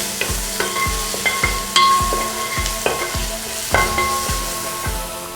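Onion, garlic and ginger sauté in a pan for a Kerala beef curry, a close sizzle punctuated by about a dozen rhythmic metallic scrapes and taps of a spoon stirring against the pan.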